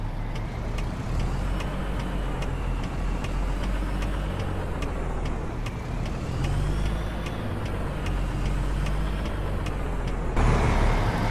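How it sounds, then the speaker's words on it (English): Diesel truck engine drone of a Peterbilt 389 with a 625 horsepower CAT engine in American Truck Simulator, a steady loud rumble with faint repeating beeps ticking over it throughout. "I think it's a 625 horsepower CAT engine."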